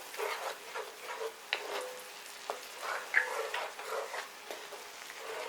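Sazon and olives with a little brine being stirred into a pan for Dominican spaghetti, soft repeated scraping and light sizzling in uneven strokes, fairly quiet and close, with no speech.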